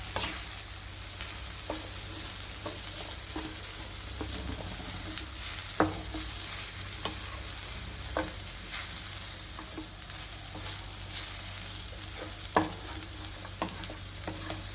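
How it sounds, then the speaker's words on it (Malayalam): Sliced onion sizzles steadily in a hot pan while a spoon stirs it, with scattered scraping clicks and knocks over a constant frying hiss, close and moderately quiet. "അത് നന്നായിട്ടൊന്നുകൂടി ഇളക്കണം."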